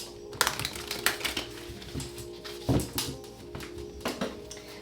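Rapid clattering and riffling of tarot cards being shuffled, with bursts of flicking and soft taps coming in quick irregular runs, close up.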